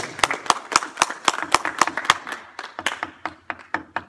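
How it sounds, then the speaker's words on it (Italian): Small group clapping at a woodworking workshop, a few hands giving sharp, distinct claps in an uneven rhythm that thins out toward the end. "Applausi"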